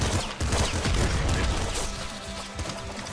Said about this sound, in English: Shotgun's kind of nice because the bullets all bounce off the walls.